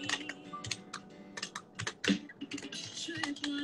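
Rapid keyboard typing with irregular bursts of keystrokes close to the microphone, accompanied by faint background sound.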